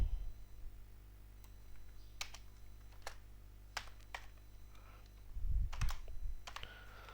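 Sparse computer keyboard typing, a handful of separate clicks and short bursts of keystrokes at moderate distance over a steady low hum, while entering an element ID attribute value for automation locators.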